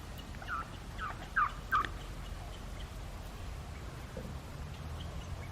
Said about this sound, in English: Wild turkeys.